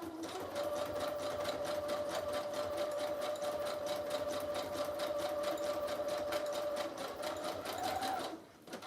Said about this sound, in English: When I sew these, I'll just come on over here real fast since it's quick.